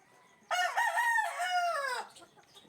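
A single loud rooster crow rings out close by, a long drawn-out call lasting about a second and a half before fading into quiet.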